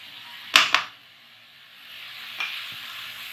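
Onions and capsicum frying in a pan for homemade pizza sauce, two sharp scraping stirs followed by a soft, steady sizzle that fades slightly and then swells again.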